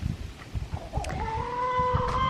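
Chickens in a home garden near a chicken shed cluck in short, irregular bursts, with one longer rising call in the middle, moderately close against faint outdoor background.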